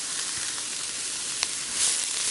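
Brussels sprouts sizzle and hiss steadily in a hot pan while being stirred, with one brief clink in the middle and the frying swelling slightly toward the end.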